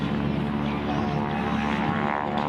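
Propeller drone of a stunt airplane performing at an air show, a steady, loud buzzing engine tone sustained throughout with crowd and announcer ambience mixed in.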